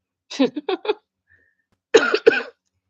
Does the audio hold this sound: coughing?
yes